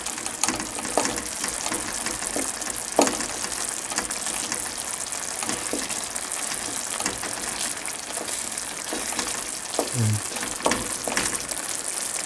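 Vegetables for menemen sizzle and fry steadily in a pan, a close, continuous crackle with occasional pops and stirring scrapes.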